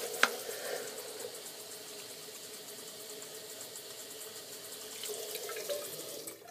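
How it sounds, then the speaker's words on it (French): A thin stream of tap water runs steadily into a folded paper water bomb, a soft continuous trickle and splash heard close up with no talking. "on fait couler un filet d'eau et on va mettre l'eau dans ce trou-là"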